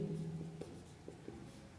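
Pen strokes on paper while writing out a chemical kinetics rate equation, a few soft scratchy marks standing alone against a faint steady background hum.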